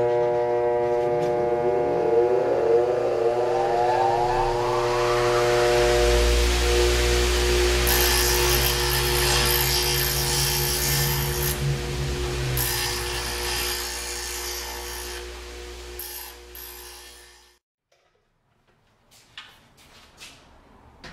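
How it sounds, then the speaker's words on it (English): A bench grinder mounted on a workstation sharpens a chisel: the motor whines as it spins up, then a sustained loud grinding follows before the wheel winds down and stops. "I will sharpen a chisel."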